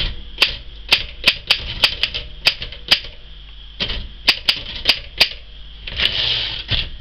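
Typing on a 1925 Royal Model 10 manual typewriter set to blue ribbon: a brisk run of sharp, close keystrokes in uneven bursts, with a short pause midway and a denser mechanical rattle near the end.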